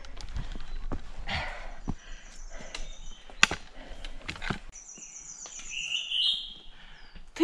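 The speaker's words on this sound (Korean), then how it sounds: "특이한 새소리입니다." A distinctive bird call rings out in a quiet mountain forest at about 1250 m altitude, with one clear high, drawn-out call near the end, heard after rustling and clattering footsteps as someone climbs through the trees.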